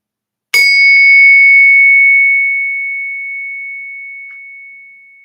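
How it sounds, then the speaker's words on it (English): A silver coin is struck and rings out with one sharp ping followed by a single clear, pure sustained tone that slowly fades over several seconds, loud and close with nothing else around it. "That's what silver sounds like."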